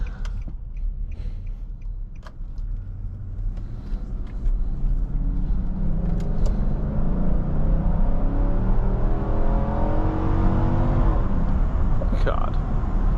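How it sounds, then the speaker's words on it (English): A 2019 Infiniti QX80 Luxe's engine accelerates from inside the cabin, a deep rising roar that builds steadily and holds loud over the second half, with brief speech early on. "what an amazing sounding engine right there"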